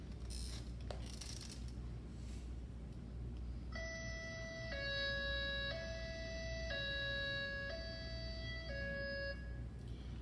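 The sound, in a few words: high-low evacuation siren tone played back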